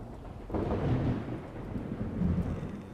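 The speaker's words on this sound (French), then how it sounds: "Arrête le tonnerre." Rolling thunder from a storm in the zombie survival game Project Zomboid, a loud low rumble swelling in over a steady rain-like hiss and lingering throughout, with no talking.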